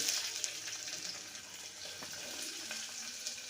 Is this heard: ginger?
yes